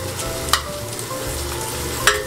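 Salmon chunks go into a pan of softened onions, setting off a continuous close sizzle with two sharp clacks as pieces land or the utensil hits the pan, no voices.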